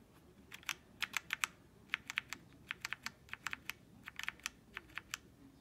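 A DIERYA 60% wireless RGB mechanical keyboard is typed on in bursts, producing crisp, close clicky keystrokes in irregular clusters of quick taps separated by short pauses, fairly quiet overall with no talking.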